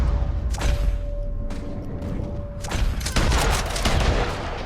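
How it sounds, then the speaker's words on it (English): Rapid gunfire in Red Dead Redemption 2 during a shootout against enemies on a balcony, with dense volleys of loud overlapping shots in bursts, the heaviest barrage near the end. "Just keep shooting till nothing moves."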